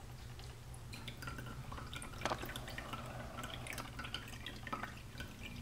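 Orange essential oil and water drip quietly from a home-made steam distiller into a collecting container. The small drips are irregular, with a low steady hum of the apparatus running underneath.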